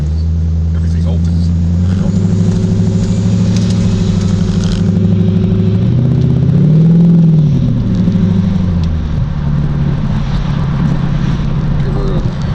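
A C4 Corvette's LT1 V8 engine and exhaust give a deep, loud idle rumble that swells into a brief rev midway before settling back to a steady burble.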